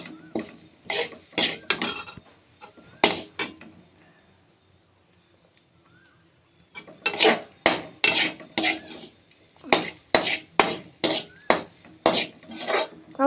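Pappadam thoran being stirred in a pan, heard as bursts of scraping and tapping from a spatula against the pan, a quiet pause, then a faster run of rhythmic scrapes, with no talking.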